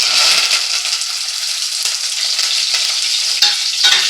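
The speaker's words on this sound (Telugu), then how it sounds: "మొత్తం పోపు దినుసులు వేసేసుకుంటున్నాను." Tempering spices hiss and crackle in hot oil for a buttermilk curry. The loud, steady sizzle carries a few sharper pops and stirring scrapes throughout.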